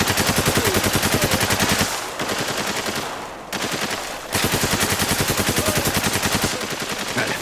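Rapid automatic gunfire in the video game Spec Ops: The Line, loud sustained bursts of evenly spaced shots with two short pauses, close and alone without talk.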